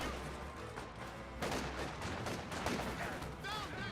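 Company of Heroes 2 battle with Volksgrenadiers under fire from conscripts and a penal squad: scattered gunshot bursts and rattling fire over a low rumble, fairly faint, with a voice talking throughout.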